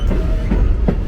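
Strasburg Rail Road passenger train behind steam locomotive No. 90 rolling around a bend, heard from aboard as a loud, steady rumble with a couple of rhythmic wheel clacks over rail joints.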